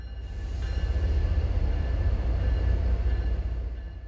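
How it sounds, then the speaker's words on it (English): MBTA locomotives and a train rolling past at South Station in Boston, a steady heavy rumble of engines and wheels that swells in and holds loud throughout. "let's watch as the locomotives that brought it into South Station head back south to Middleboro"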